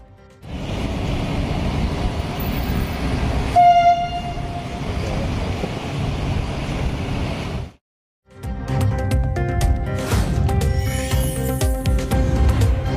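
A metro train rumbles loudly and steadily with a brief horn tone early on; the noise drops out for a moment, then the clattering run resumes.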